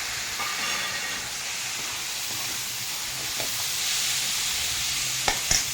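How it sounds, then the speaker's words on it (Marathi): Chopped tomatoes sizzling in a pan for tomato chutney, a steady hiss of frying with a few faint clinks near the end, no talking. "आता त्यात आपण हे टोमॅटो घालून घेऊ कापलेले"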